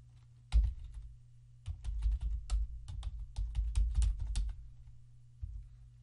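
Typing a username on a computer keyboard: bursts of quick, close keystrokes with short pauses between, clicking crisply against a quiet room.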